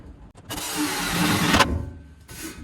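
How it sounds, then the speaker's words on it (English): An electric drill bores a hole in an old metal folding chair, whirring in a single burst of about a second, close by, then a brief second spin-up. "Now we're going to take a drill. drill me a hole here"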